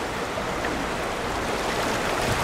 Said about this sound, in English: to think about the sheer volume of water that is running out of here